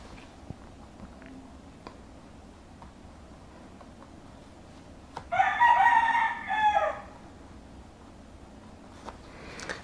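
A rooster crows once, loud and clear, over a quiet rural backdrop with faint scattered clucks and knocks before and after.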